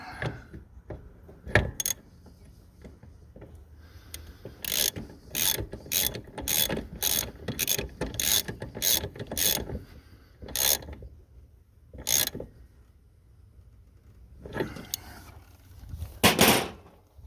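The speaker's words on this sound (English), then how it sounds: "Tighten the brake lines up a little bit." A wrench tightening brake lines on a 2003 Ford Explorer during a master brake cylinder replacement, heard as bursts of quick ratcheting clicks in runs, with pauses and a few louder metallic clanks, close and without speech.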